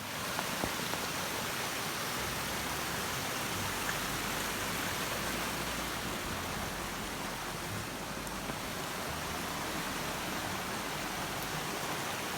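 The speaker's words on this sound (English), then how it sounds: "The creek next to my studio, just a few meters away, often floods." A flooded creek rushes a few meters from a ceramics studio on the Sunshine Coast, a dense, continuous broadband wash of flowing water, steady and close throughout.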